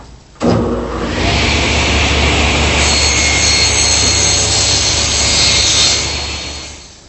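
A table saw rips and trims thin slivers off wooden pieces, starting abruptly and holding a loud, steady, close whine for several seconds before tapering off, with no voices.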